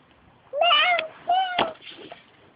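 A person's voice imitates a cat, giving two short drawn-out meows in quick succession, close and clear against a quiet room.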